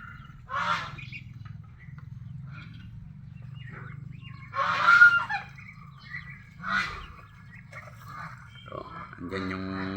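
Mestizo Peking ducks honk in a few loud, separate bursts, one near and prominent, over a steady low rumble of background noise.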